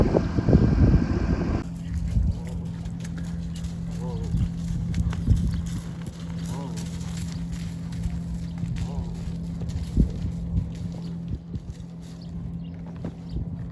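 Horse hooves clip-clop at a steady ride pace on a farm, fairly close, with wind buffeting the microphone and a constant low engine-like hum underneath; faint voices come through at moments.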